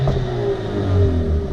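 A 2020 Mercedes CLA45 AMG in Sport Plus mode revs its exhaust up close, a loud, steady, throaty engine drone that swells briefly in a short burst.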